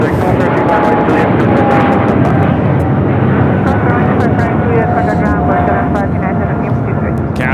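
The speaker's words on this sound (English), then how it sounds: "Cathay Pacific A85 taking off to Hong Kong on the 777-300ER" A Cathay Pacific Boeing 777-300ER taking off at LAX, its loud jet roar steady and close, with a voice talking over it throughout.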